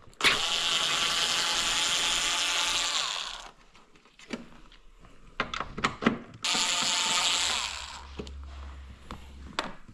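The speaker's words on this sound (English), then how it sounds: "we have to take out these two nuts with the help of a 10mm socket" Ratchet wrench with a 10mm socket turning out nuts on a BMW X-model brake light assembly, giving rapid, close clicking bursts that start and stop, with a few sharp single clicks between runs.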